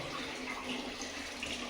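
Water from a tap runs in a steady, close hiss while a small stray puppy is bathed. It continues unbroken with no speech.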